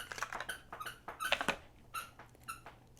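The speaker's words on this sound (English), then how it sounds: "my dog is squeaking her toy" A dog repeatedly squeaks her plush lamb toy, producing a quick series of sharp, irregular squeaks close by and at moderate volume.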